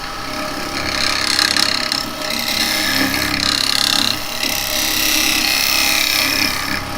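A negative rake scraper, fresh from the packet and unsharpened, cuts wood on a lathe at centre height, giving a steady loud scraping rasp over the hum of the spinning lathe for the whole stretch, with brief dips as the tool eases off.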